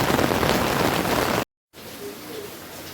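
Heavy monsoon rain pours down in Surat as a dense, loud, continuous hiss that cuts out briefly and returns softer.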